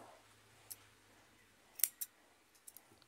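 Scissors snip crochet yarn in a few quick, crisp clicks close by in a quiet room, with one sharper double cut near the middle.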